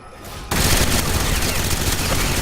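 Dense, continuous video-game gunfire in an assault match erupts after a half-second of quieter lead-in, sustained loud rattling shots layered with booms filling the rest of the moment, no clear talk over it.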